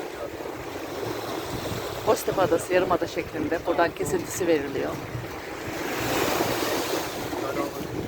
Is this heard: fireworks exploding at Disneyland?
no